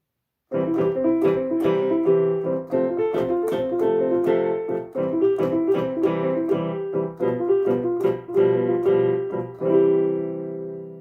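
Simple piano chords played with a rhythmic, bouncing pattern, repeated stabs of the same harmonies struck close and clear, ending on a held chord that rings out.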